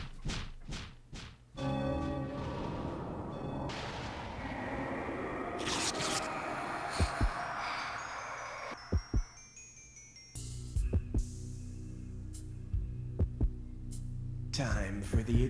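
Synthetic heartbeat thumps from the trivia video game You Don't Know Jack, heavy low beats recurring under game music, with a host talking over parts of it.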